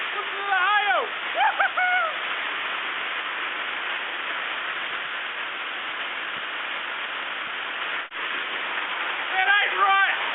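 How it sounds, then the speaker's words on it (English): Hail pelting down on a flooded farm, a steady dense wash of rattling water noise loud and continuous throughout, with voices speaking over it at the start and end. "Listen to the hail."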